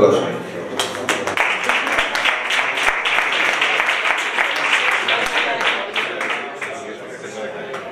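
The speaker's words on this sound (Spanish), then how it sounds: "Un aplauso." An audience applauds at a ceremony where plaques are handed out to bars at the close of a tapas trail in the Riotinto mining district, with dense clapping rising and then holding steady for about eight seconds.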